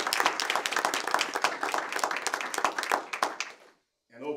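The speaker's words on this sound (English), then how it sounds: "So let's give them a round of applause." Applause from an audience at a school board meeting, dense clapping that holds steady for several seconds then stops abruptly, followed by a brief voice.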